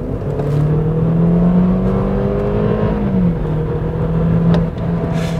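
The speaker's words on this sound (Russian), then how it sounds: "когда нажимаешь педаль в пол, ну я бы не сказал прям, что прям вау, но машина едет бодренько" A BMW 320 Gran Turismo pulls away with the accelerator floored, its engine drone rising steadily in pitch under continuous road and wind roar, heard from inside the car without talk.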